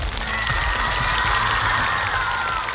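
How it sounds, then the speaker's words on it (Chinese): Crowd applause and cheering for students on stage at a school science show, a dense continuous wash of clapping with some shouts, loud and close throughout. "掌声送给我们台上的同学"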